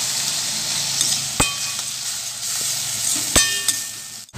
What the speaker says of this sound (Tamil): இப்ப நறுக்கி வச்சிருக்க தக்காளியையும் மல்லித்தலையும் சேர்த்து நல்லா கிண்டிக்கோங்க.